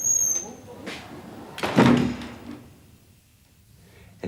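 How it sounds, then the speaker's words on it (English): An interior door in a 1988 British police drama shuts with a single firm thud, loud and close, followed by a quieter room. "Close the door."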